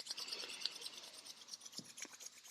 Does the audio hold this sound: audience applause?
no